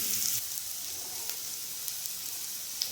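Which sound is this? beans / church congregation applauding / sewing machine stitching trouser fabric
beans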